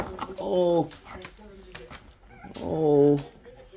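An American Bully puppy whimpers in two thin, drawn-out whines, close by, separated by a pause with faint background noise.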